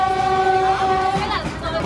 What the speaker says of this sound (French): c'est le train à Crémaillère